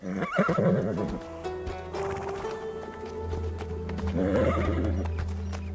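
A horse in a Hindi action film neighs loudly near the start, with a second whinny later, over steady clip-clop hoofbeats and a low rumbling background.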